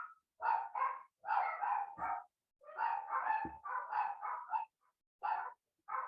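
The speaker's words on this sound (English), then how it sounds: "it's the wonders of recording from a home studio when you have dogs who like to bark" Dogs barking inside a home studio, a run of close, sharp barks and yips in quick bursts with short pauses between.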